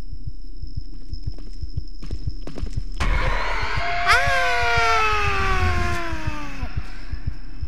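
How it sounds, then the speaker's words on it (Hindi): A heartbeat pulses with soft, regular low thumps in a horror video game. It sits under eerie wailing, sliding tones that swell midway through, and no voices are heard. "हम डर के मारे कुछ बोल नहीं पा रहे, बस अपने दिल की धड़कन सुन रहे हैं, घपक ची घपक ची घपक ची।"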